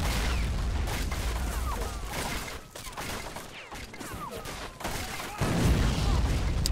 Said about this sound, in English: They definitely have to be making use here of the artillery that they have to try and hold the front line.